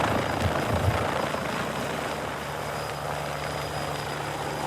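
A helicopter, a $600,000 purchase, thrums steadily with a loud rotor chop and engine drone that holds throughout without talk.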